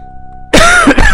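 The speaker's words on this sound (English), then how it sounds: "I really wish this cough would stop." A single sharp cough, close and loud, breaks in abruptly after a soft musical background and lasts about half a second with a rough, throaty rasp.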